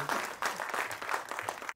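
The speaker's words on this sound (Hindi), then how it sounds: "तालियां जोरदार होनी चाहिए ऐसे मजे हुए कलाकार के लिए" A short burst of steady, fairly loud crowd applause greets actor Surendra Pal Singh at a film trailer launch, then cuts off abruptly.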